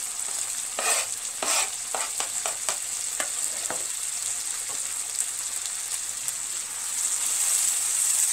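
Steady sizzling of finely chopped vegetables frying in a pan for sauerkraut and duck shchi, with a few brief stirring scrapes early on, continuous and close.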